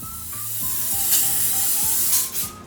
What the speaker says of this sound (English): I'm gonna spray it down with a little avocado oil.